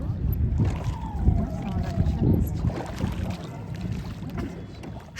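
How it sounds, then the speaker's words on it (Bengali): A rowboat glides slowly across Naini Lake, its soft water sounds steady under wind rush at the microphone, with a faint voice now and then. "নৌকাটা ধীরে ধীরে এগোচ্ছিল"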